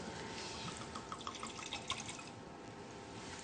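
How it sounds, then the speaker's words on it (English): Wine trickles from a bottle into a glass, a soft gurgling pour with small bright splashes that fades into quiet room tone, heard up close. "Do the pouring."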